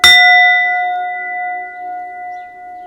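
A singing bowl struck once gives a bright metallic strike that settles into a long, steady ringing tone with clear overtones, slowly fading but still sounding at the end, with no talking.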